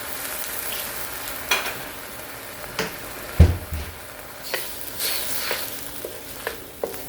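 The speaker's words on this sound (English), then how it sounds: "Keep on stir frying. Let it cook a little bit." Okra and vegetables sizzle and crackle in a hot wok, with intermittent scraping and tossing sounds as they are stir-fried.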